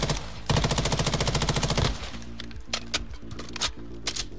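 Automatic fire from an M13b assault rifle in Warzone 2: a fast, steady burst of loud close shots, then a looser run of single and clustered shots with clinking casings.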